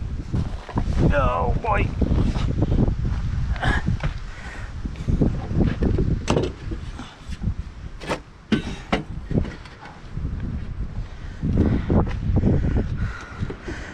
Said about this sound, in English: So, of course, it's really windy.